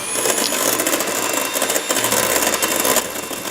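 Electric mixer beating cake batter after sugar is added, for jam tarts; a steady, fairly loud whirring drone runs throughout with a rattling, clattering texture and a slight change in pitch partway through.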